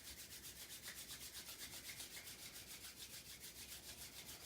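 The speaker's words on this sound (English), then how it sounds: "Go ahead and rub your palms together." Palms rub briskly together in a steady back-and-forth rhythm, a soft dry swishing that repeats evenly and close up, quiet and with no talking, at the start of a Kundalini yoga kriya.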